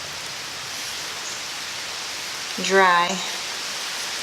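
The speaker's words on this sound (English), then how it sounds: "it was moist out earlier, and here's the rain." Rain falls steadily outdoors as a continuous broadband hiss through the whole stretch, with a brief spoken word cutting in near the end.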